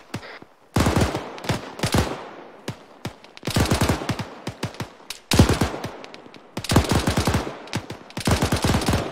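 Repeated bursts of automatic gunfire crack out during a military field training exercise, loud and close, coming in rapid strings separated by short pauses.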